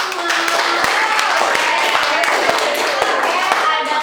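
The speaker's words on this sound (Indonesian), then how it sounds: "Tepuk tangan untuk kita semua." Students in a classroom clap their hands together in a brief round, a dense steady patter of many claps with a faint voice underneath.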